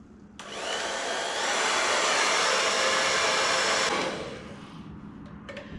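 A heat gun blows steadily, warming smoke tint film on the light of a 2018–2019 Mustang GT, a loud even whoosh lasting about three and a half seconds before it cuts off, then faint handling sounds.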